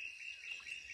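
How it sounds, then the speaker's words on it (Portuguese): A faint, steady whistled call of a tinamou holds one high pitch against quiet, insect-like background hiss. "Só Nambu, pássaro raro."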